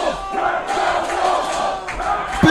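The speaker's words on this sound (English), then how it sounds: "the crowd's imploring Stephen Wolf" Wrestling crowd at the Buckley Cup roaring and chanting for Stephen Wolf, loud sustained shouting from many voices with rising surges and a sharp thud near the end.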